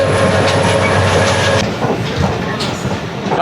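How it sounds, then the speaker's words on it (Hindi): Tezgam passenger train running on rails as it nears Sammasatta railway station through the yard, with steady loud rumble and clickety-clack of wheels, continuous and close throughout. "ट्रेन हमारी सम्मासट्टा रेलवे स्टेशन अप्रोच बना रही है"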